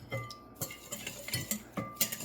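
A whisk clatters rapidly against a bowl while a vegan steak mixture is beaten, quick irregular metallic clinks and taps, close and clear with no talk.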